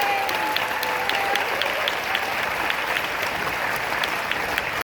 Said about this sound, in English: Let's give a final round of applause to the team behind Shirley.